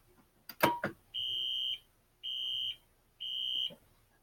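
Fire alarm system test panel sounding three steady electronic buzzer tones, each about half a second long with a short gap between, following a brief click of a switch being pressed, then going quiet.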